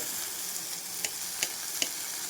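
Onions and potatoes seasoned with salt and turmeric sauté in a pan with a soft continuous sizzle, three light spoon taps spaced evenly against the pan, quiet and close.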